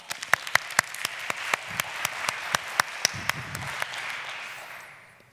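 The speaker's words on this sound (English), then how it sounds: "Give him a round of applause." An audience at a startup pitch competition final breaks into applause for a speaker taking the stage. Sharp individual claps stand out over a steady bed of clapping that fades away after about five seconds.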